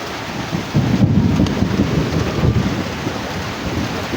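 Heavy rain pours steadily through a thunderstorm, with deep rolling thunder rumbling close and loud throughout, no voices.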